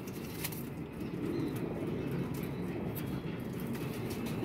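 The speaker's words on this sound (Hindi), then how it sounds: "चीना कबूतर आ गया।" A Chinese pigeon flaps its wings and coos softly, close by and fairly faint, over a steady background hiss.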